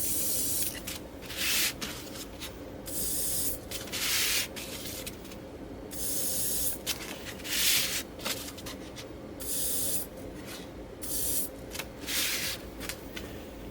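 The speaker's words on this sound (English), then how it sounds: "I'm just going to spray it with some red to give the nose a little bit of color here" Red spray paint hisses from an aerosol can onto a wooden fishing lure in repeated bursts of varying length, close and steady, with no talking.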